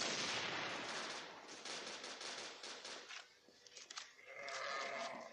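Rapid gunfire from the mobile shooter game Crossfire: Legends rattles as a dense continuous burst of automatic shots, loud and steady, thinning midway before another sustained stretch of firing.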